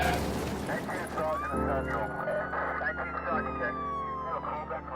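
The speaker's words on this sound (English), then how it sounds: "Move aside, let the ambulance through." An ambulance siren wails, rising and falling over loud rumbling crowd noise and shouting voices, the siren sweeping repeatedly close by.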